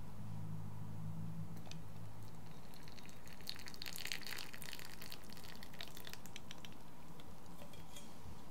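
Hot water poured gently onto tea leaves during a tea ceremony, a soft, close trickle and splash with light clinks of ceramic, quiet and unhurried over several seconds.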